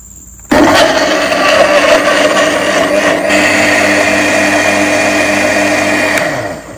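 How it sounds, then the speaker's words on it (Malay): Kitchen blender grinding onions, ginger, candlenuts, dried chilli and water for a Singapore-style chilli crab paste: a loud, steady whirring motor that kicks in abruptly, runs continuously for several seconds, then winds down at the end. "Kemudian kita kisar bahan-bahan."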